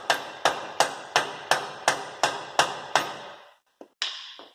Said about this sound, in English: start pounding the bolt through the rest of the way.